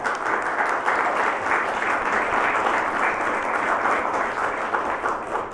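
City council meeting audience applauding, a steady, moderately loud patter of many hands clapping continuously throughout with no speech over it.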